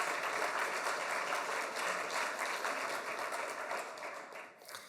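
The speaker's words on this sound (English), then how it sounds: "One more round of applause" An audience at a space resources panel event applauds steadily, a dense wash of clapping holding for several seconds before thinning toward the end.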